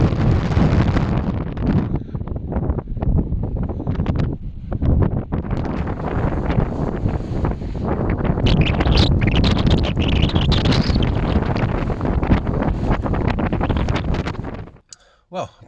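Strong wind on a mountain top near a castle with the Pyrenees in view, buffeting the microphone in loud, continuous rumbling gusts with scattered clicks until it cuts off abruptly at the end.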